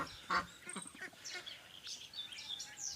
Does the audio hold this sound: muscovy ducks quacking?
yes